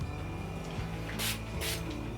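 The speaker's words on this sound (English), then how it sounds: "normally what you'd want to do is take an aerosol spray can" An aerosol hair spray can being sprayed on hair, with two short hissing bursts about half a second apart, close and fairly loud over a steady background hum.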